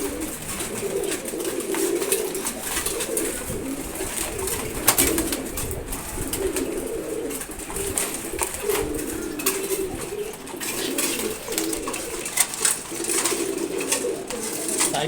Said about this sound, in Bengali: সব কবুতরে ভালোভাবে খাবার খেতে পারে